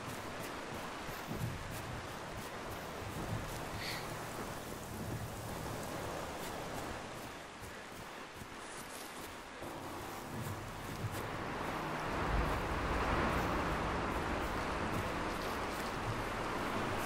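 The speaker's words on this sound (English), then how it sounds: "that rain is loud" Heavy rain pours in the video game Generation Zero, a loud, dense, continuous hiss that swells louder toward the end, with no voices.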